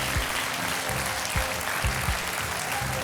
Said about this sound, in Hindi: तालियां बॉबिन कुमार जी के लिए जो कि 10 लाख रुपए जीते हैं